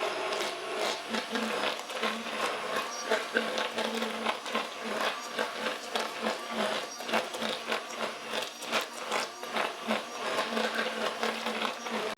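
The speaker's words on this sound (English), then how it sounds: "All right, Joey, I don't know if everyone has a stick blender, but this sure is handy." A handheld immersion stick blender whirs steadily through a thick cashew mixture, a loud continuous motorized grind with small fluctuations as it churns the blend, no voices over it.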